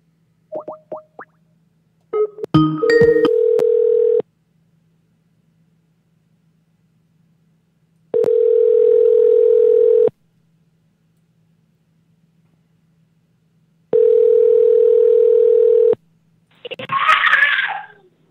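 A telephone call's ringback tone sounds as a steady electronic beep, repeating in three evenly spaced long bursts with silence between them, after a few brief dial-pad tones.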